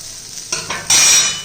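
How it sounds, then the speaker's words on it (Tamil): A flaxseed and banana dish is flipped in a pan, giving a short scrape and stir, then a louder burst of sizzling frying near the close-up. "இப்போ திருப்பி போட்டுக்குருவோம்."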